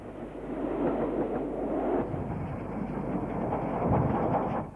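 Princess Royal class steam locomotive 46209 Princess Beatrice at Stafford, a loud, continuous rumbling roar of the moving train that holds steady and swells slightly toward the end.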